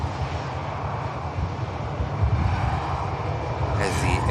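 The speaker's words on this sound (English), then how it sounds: "There's the Airline A320 taxis by." Airbus A320 airliner taxiing past at Manchester Airport, a steady low jet engine rumble and whine that holds throughout and swells slightly toward the end, with a brighter hiss entering near the close.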